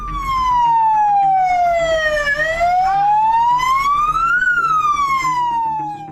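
A fire engine's wailing siren in a narrow Jakarta street lined with parked cars, rising and falling in slow sweeps, loud and close over a low engine rumble, with no voices.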